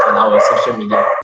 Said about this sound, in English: Sorry for my background noise.